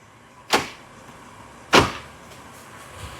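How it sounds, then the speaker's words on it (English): A 2015 Acura MDX's door locks actuate twice, each a sharp mechanical clunk about a second apart, close and loud against a quiet background. "and unlock the doors."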